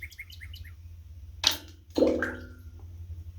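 A small rock dropped down a deep well strikes with a sharp knock, followed moments later by a faint, echoing splash far below, with light bird chirps outdoors beforehand.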